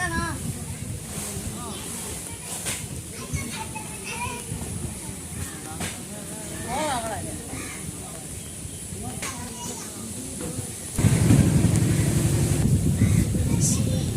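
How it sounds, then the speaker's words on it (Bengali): Strong wind blows steadily across a riverside village scene, a broad rushing noise that swells louder near the end, with children and other voices talking over it. "আজকে অনেক বাতাস।"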